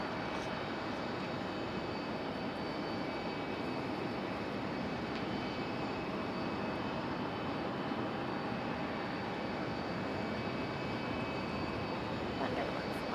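The Lone Star 1 airliner departing Raleigh Durham airport leaves a faint, distant, even jet rumble that holds steady throughout with no change in level.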